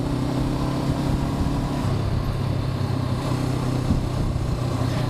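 A 2021 Honda CB500X adventure motorcycle engine drones steadily while riding, a continuous loud low hum with wind rush and no talking.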